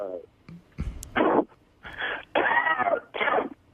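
Several harsh, raspy coughs in short bursts, close up, separated by brief pauses and mixed with a few quieter vocal sounds.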